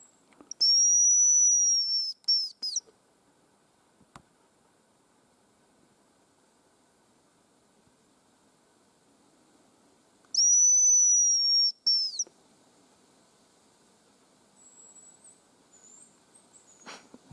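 Thin, very high whistles, like a hazel grouse call or a hunter's decoy whistle, sound in the forest during a grouse hunt. They come as two separate bursts of about two seconds each, with long quiet gaps between them.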